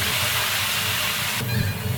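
Garlic chili sauce hits hot peanut oil in a wok and gives off a steady, loud hiss. Partway through, a sharper sizzle flares up as more goes into the pan.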